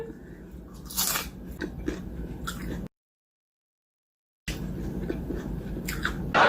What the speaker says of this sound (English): Who likes crunchy onion rings?